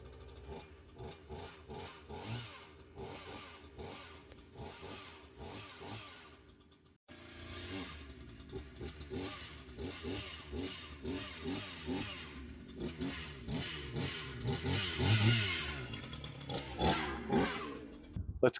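A chainsaw cutting wood at a truck camp in Arizona, its engine buzzing and revving in repeated surges, loud and close, running continuously with a brief pause before picking back up.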